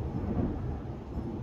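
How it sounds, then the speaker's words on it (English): Thunder rolls during a lightning storm as a low, continuous rumble with no sharp crack, steady and moderately loud throughout the short stretch. "That was quite the bit of thunder."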